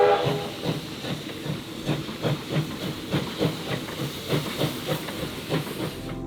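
Steam locomotive at a railway workshops open day, hissing steam in a rhythmic series of soft chuffing bursts, moderately distant, with no talk.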